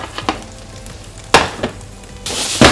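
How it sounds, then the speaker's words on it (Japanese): Pork and eggplant stir-fried with a miso sauce in a hot pan, sizzling with bursts of scraping and tossing, a loud stir near the middle and another surge of sizzle at the end. "あとは炒め合わせる。"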